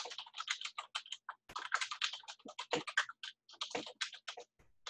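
Rapid key presses on a computer keyboard as a password is typed to sign in, a close, dense run of light clicks in quick irregular bursts with short pauses and no talking.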